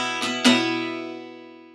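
Two quick strums on an acoustic guitar play the last intro chord of a song, the second stronger, then the bright chord rings on and decays gradually with nothing else heard.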